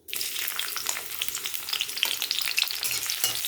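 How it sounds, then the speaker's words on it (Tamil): Onions with star anise and a little mint sautéing in oil for mushroom gravy, a steady dense sizzle and crackle running throughout with scattered spatter pops and stirring scrapes, close and fairly loud, no talk. "இது மாதிரி பொன்னிறமாக வர வரைக்கும் நம்ம நல்லா வதக்கிக்கணும் வெங்காயத்தை."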